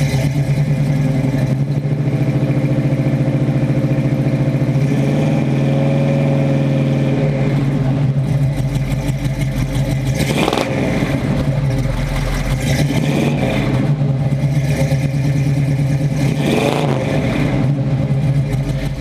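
A 1979 Pontiac Firebird Trans Am with the 6.6 engine idles steadily up close, a loud, even low rumble that swells briefly a couple of times without any talking.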